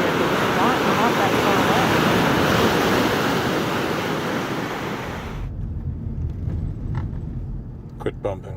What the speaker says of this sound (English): This is just a little interlude of the ocean crashing against the shore.